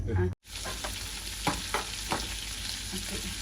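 Tempering spices frying in a pan for a meat curry, a brief cut, then steady close sizzling with several sharp stirring scrapes and clinks, no voices.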